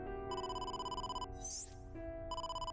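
Phone in AI: The Somnium Files ringing with a steady electronic tone that pulses rapidly in repeated bursts, broken by a brief sweeping chime and then resuming, alone and fairly clear.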